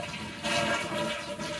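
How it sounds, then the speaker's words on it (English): A household toilet flushed to empty its tank before a flapper replacement, a close, gushing swirl of draining water that surges briefly and keeps rushing for the whole moment. "now the next step is to turn off the water and drain the tank"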